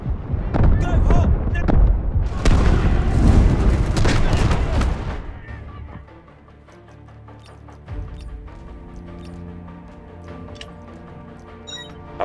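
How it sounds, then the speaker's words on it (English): Artillery fire in Delta Force: heavy booming blasts and crashing impacts dominate at first, then ease into lighter scattered shots and rumbles with game voices mixed in. "Artillery cover coming."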